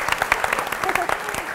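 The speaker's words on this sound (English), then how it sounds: "Clap him. Clap him." A studio audience claps for a comedy writer, a short burst of close, uneven applause from a modest crowd, with a voice talking over it.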